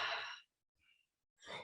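Slow Ujjayi yoga breaths drawn through a constricted throat, a breathy ocean-like rush at the start, a faint catch in the middle and another soft whooshing breath at the end, close and quiet.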